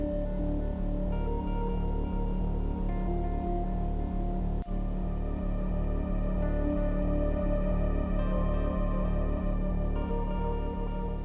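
Metroid Fusion title screen music on the Game Boy Advance, a foreboding, looping chiptune with a pulsing bass pattern and sustained synth tones, steady and fairly quiet, with no talk.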